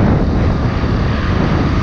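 A new 2022 Honda Pop 110 motorcycle rides through town, its engine drone buried under a loud, constant roar of wind buffeting the microphone, with no talk.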